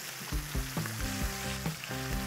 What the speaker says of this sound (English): While the chicken's frying